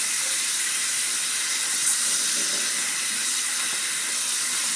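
Tap water runs steadily from a faucet as hands are rinsed under it, a constant close hiss with no pauses.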